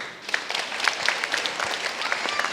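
Brief, moderately quiet audience applause at a live Guadeloupean event, a patter of many hands with scattered sharper claps and no clear talk.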